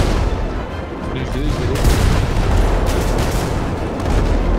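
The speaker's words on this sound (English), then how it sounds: "I'm shooting it on the cannon" Cannon fire in GTA 5 roleplay booms within a dense, loud, continuous barrage of gunfire and explosions, with a player speaking over the din.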